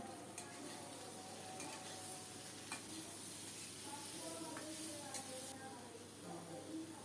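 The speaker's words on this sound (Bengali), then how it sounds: "পটল দিয়েও নেড়ে ছেড়ে সুন্দর করে ভেজে নেব" Pointed gourd (potol) fries in a pan while being stirred, a faint, steady sizzle with occasional soft scrapes and taps of the spatula throughout.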